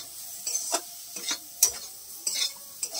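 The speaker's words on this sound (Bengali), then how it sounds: "এইভাবে ভালো করে কষিয়ে নেবো একটু মশলাটাকে" Spice paste with turmeric sautéed in a pan for a tilapia curry with green banana, scraped by a few distinct spoon strokes over a soft steady sizzle, close and moderately loud.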